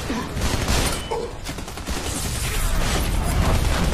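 Dense, continuous gunfire in the Army of Two: The Devil's Cartel video game, a steady fusillade of overlapping shots that stays loud for the whole stretch.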